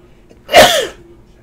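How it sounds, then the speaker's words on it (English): A single sharp human sneeze, close and fairly loud, bursting out about midway and fading quickly, with quiet room tone before and after. "I have been sneezing quite a bit this little bit."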